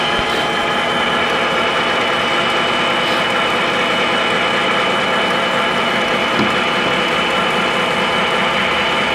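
Mini lathe with a four-inch chuck boring with a carbide boring bar, giving a loud, steady, continuous mechanical hum and grinding whir that stays even throughout, close up with no talk.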